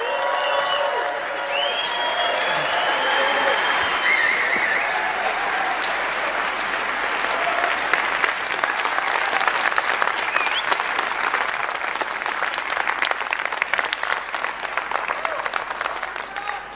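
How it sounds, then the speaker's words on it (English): A large conference audience in Switzerland applauds and cheers for closing keynote speaker Charles Hoskinson, dense sustained clapping with scattered whoops and crowd voices, swelling louder toward the end. "please give a huge round of applause to your closing keynote speaker"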